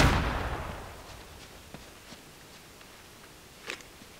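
A shotgun blast in the video game Uncharted: Drake's Fortune opens with a loud boom that decays over about a second, followed by scattered faint clicks and a sharper impact later.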